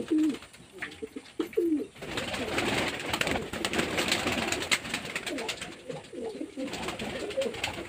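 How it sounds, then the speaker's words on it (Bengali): Pigeons coo while drinking water, low rolling calls near and far under a constant hiss of background noise, with brief bursts of activity. "তো বন্ধুরা পায়রাগুলো সব জল দেওয়া হয়ে গেছে"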